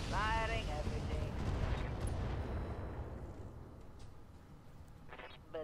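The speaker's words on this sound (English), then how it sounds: "Okay, firing everything." Mech weapons all firing at once in the Roguetech battle game, a heavy rumbling barrage of booms and blasts swelling then slowly fading, with a brief synthetic tone at the start and another near the end.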